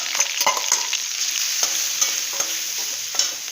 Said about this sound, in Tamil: கடுகு வெடிச்சிடுது.